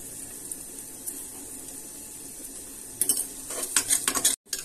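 A rice mixture for pulao is stirred in a pot, a soft sizzle at first, then louder scraping and clinking of a utensil against the pot near the end.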